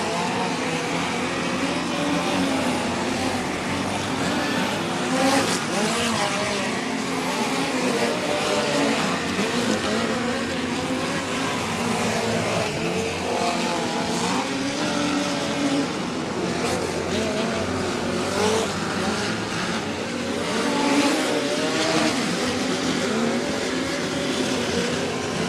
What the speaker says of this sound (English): 11L car doesn't sound too good there for Aaron Leffel.